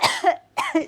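Two sharp, close coughs, one right after the other, with a short gap between them.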